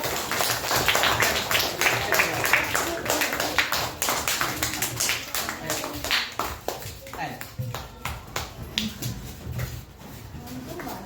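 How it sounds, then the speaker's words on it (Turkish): Scattered, fairly thin clapping from an audience at a school knowledge-contest award ceremony, with bursts of hand claps that grow sparser and fade toward the end while a voice speaks over them. "Alkış var."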